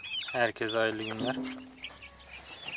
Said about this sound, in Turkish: Bugün küçük civcivleri dışarı çıkarmıştık.